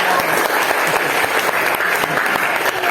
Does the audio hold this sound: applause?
yes